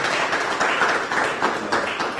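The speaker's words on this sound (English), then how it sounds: "I will ask your peers to once again give you another round of applause" A steady round of applause for a candidate at a live event, dense continuous clapping from a crowd with no pauses, held at an even level throughout.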